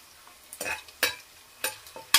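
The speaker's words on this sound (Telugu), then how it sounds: "ఇదిగోండి 1 స్పూను అల్లం చిల్లిపాయ పేస్ట్ అనమాట. కొంచెం కలుపుకుందాము." A spoon scrapes and stirs ginger garlic paste frying in a hot pan, four or five short sizzling strokes spaced apart over a quiet background, close and fairly loud, no speech.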